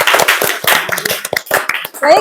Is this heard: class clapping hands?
yes